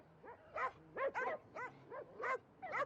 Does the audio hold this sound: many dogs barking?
yes